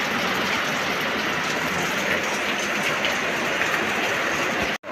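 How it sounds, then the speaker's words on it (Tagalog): Steady, heavy rain pouring down in a dense continuous hiss, loud and close, with no voices. "Basang-basa talaga sa ulan guys."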